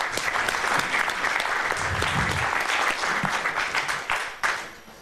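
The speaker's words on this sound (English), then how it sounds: "Give her a big applause." A crowd at a community gathering breaks into sustained applause for an honoree, steady and full throughout, with a few louder individual claps near the end.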